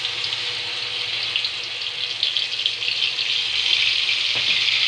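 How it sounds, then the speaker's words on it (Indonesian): Spice paste sautés in hot oil in a pan for yellow-seasoned goldfish, giving a steady, close hissing sizzle that grows slightly louder with no talk. "kita tumis bumbu"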